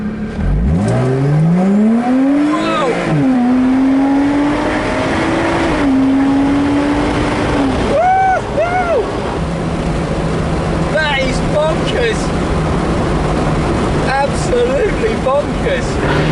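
A Lotus Exige V6 S with paddle-shift gearbox, roof off, accelerates hard in sport mode, its engine note climbing through a long rising sweep, a gear change, then further pulls; loud and close, with faint road roar and a voice briefly in the background.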